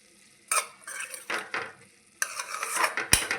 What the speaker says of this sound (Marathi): शेंगदाण्याचा कूट असा छान मिक्स करून घ्या